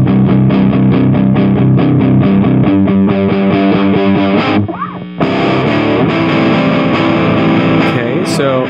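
Electric guitar played through the PreSonus Studio One Ampire amp simulator at high gain, dense chugging chords and sustained notes heard loud and upfront, with a brief dip before the playing resumes.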